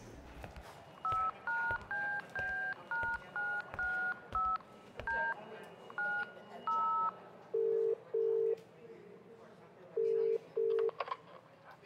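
A borrowed phone being dialed, a quick run of about a dozen keypad tones in uneven rhythm, followed by several lower two-tone beeps spaced out, clear and close.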